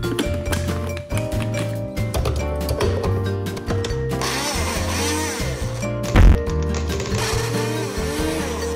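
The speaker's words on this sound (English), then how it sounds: "the point is to blend the banana peels" A smoothie blender blending banana peels runs loudly and steadily, its motor grinding with uneven, chunky chopping noises and a brief surge partway through.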